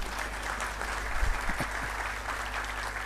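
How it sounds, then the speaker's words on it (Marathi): An audience at a Marathi book launch applauds steadily, a soft continuous patter of many hands heard from a distance in a hall, with no clear speech over it. "टाळ्या वाजवायला हरकत नाही का?"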